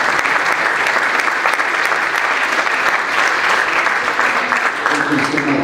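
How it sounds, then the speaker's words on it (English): A large awards-ceremony audience applauds graduating seniors with loud, dense, sustained clapping that holds steady throughout, a thick wash of hands with no voices standing out. "Please give them a huge round of applause."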